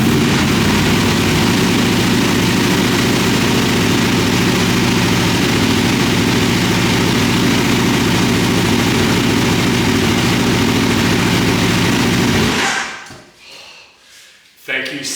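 An Aprilia RSV4RR motorcycle engine, freshly rebuilt after a wreck, runs loud and steady at a rumbling idle for about twelve seconds, then cuts off abruptly into near silence.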